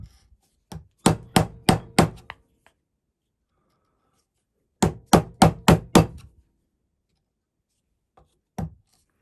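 A sharp chisel is struck with a mallet while chopping a mortise in wood for a mortise and tenon joint. Two loud, close bursts of about five rhythmic knocks are separated by silence, followed by a couple of lone blows.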